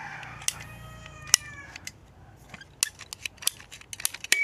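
A pipe cutter bites through thick white class-7 PVC pipe with a run of sharp, irregular clicks and snaps, plus a faint squeak at the start, close by and with no talking.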